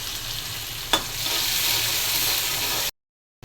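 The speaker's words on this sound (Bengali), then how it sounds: "পেঁয়াজটা হালকা ভেজে নিলাম।" Onions frying in a pan at home: a steady, close sizzle runs throughout, with one brief stir or clatter near the start, then the frying cuts out abruptly and returns briefly at the end.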